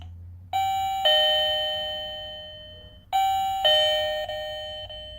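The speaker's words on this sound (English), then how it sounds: "long press the doorbell button for about 5 seconds" A Digoo SB-XYA wireless video doorbell chime rings twice, each a two-tone ding-dong with bright ringing overtones that decay slowly, the second arriving about three seconds after the first.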